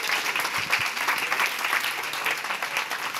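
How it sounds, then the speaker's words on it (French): An audience applauds at the end of a non-violent communication workshop, a dense, even wash of clapping that holds steady for the whole stretch without talk. "Merci, applaudissez."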